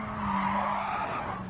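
Tires squeal as a four-wheel-drive car slides through a corner in a racing video game, a loud sustained skid over the engine's drone lasting the whole moment.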